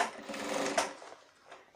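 A sewing machine top-stitches along a shirt, running briefly in a short close burst that slows and fades, then starts faintly again.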